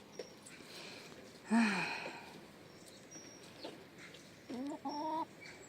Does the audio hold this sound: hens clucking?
yes